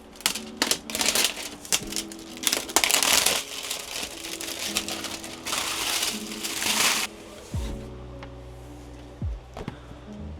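A camera box for a RED V-Raptor X is cut open and unpacked: sharp crackling, tearing and rustling of cardboard and packing material in irregular bursts, close by, ending in a few soft thuds and scrapes.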